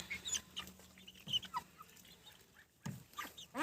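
Soft clucking from several chickens and a small rooster nearby, scattered chirps and low cackles overlapping at a quiet level.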